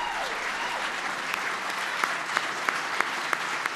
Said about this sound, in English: give a rousing applause to our Medal of Freedom winners